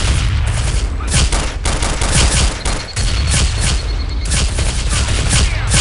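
Rapid bursts of automatic gunfire and booming shots in the Counter-Strike Condition Zero Deleted Scenes video game, loud and dense, overlapping almost without pause across the whole stretch with no voices.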